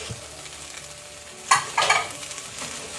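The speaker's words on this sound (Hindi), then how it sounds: "अब मैं राइस शामिल करूँगी और इनको मिक्स करूँगी।" Sweet zarda rice being mixed with sugar in a pot, two brief bursts of scraping and stirring rising out of a soft, steady kitchen background, no talking.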